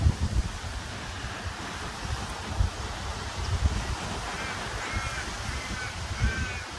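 Strong gusty wind at Portland Marina buffeting the microphone with roaring low rumble, waves washing in the background and a few crow caws later on.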